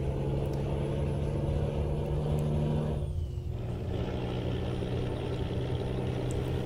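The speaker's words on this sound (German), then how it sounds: "Und jetzt fahren wir wieder weiter." An old Volvo F12 truck drones along in Euro Truck Simulator 2 on a Scandinavian road, its engine a steady low rumble with a brief dip and hiss partway through before the drive resumes.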